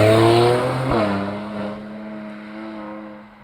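Mercedes-AMG C43 sedan engine downshifting into a hairpin corner, a sharp rev blip followed by a lower steady drone that fades as the car slows.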